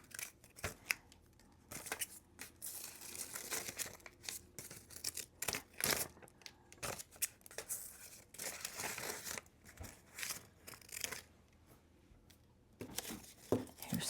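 Scissors snip through paper while petals are cut out, giving a steady run of close, crisp cuts and crinkles in irregular bursts with short pauses between them.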